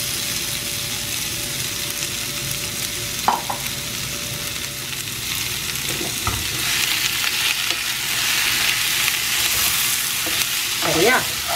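Chicken pieces cooking with clinging masala in a pan, a continuous moderate sizzle with occasional scraping and stirring knocks from a utensil, no voices.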